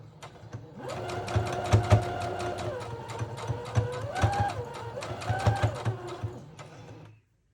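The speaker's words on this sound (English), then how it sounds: "When I'm gonna do my last pass, which is gonna be through the center to make sure I have everything, I'm gonna do a zigzag stitch" A sewing machine stitching a zigzag pattern through a fabric snippet roll, with a rapid run of sharp needle clicks over a steady motor whir that rises and falls in pitch as the speed changes, then stops.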